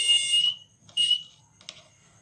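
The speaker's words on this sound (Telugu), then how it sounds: "ఈ ప్లగ్ ఎప్పుడైతే ఇందులో మునిగిందో మన బజర్ వస్తుంది అన్నమాట." A water tank overflow alarm buzzer, triggered when a plug pin dips into water, sounds in three shrill electronic bursts, a long one then two shorter, loud and close with no talking.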